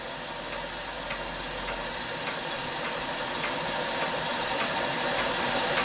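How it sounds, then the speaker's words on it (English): A scratch-built model Hero aeolipile steam engine running under steam, giving a steady loud hiss with a faint regular ticking rattle throughout. "Scratch built little hero engine running under steam."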